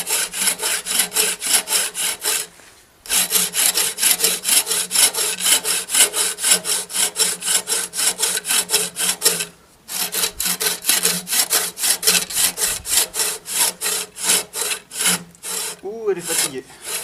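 Rhythmic back-and-forth strokes of a dull hand saw cutting a tree trunk on a squaring bench, close and loud, with two brief pauses and a final slowing stroke.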